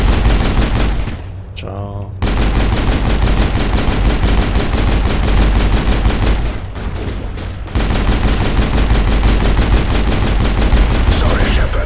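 Sustained gunfire in the video game Mass Effect during a fight against Geth, dense and loud nearly throughout with two brief lulls, while a voice speaks briefly.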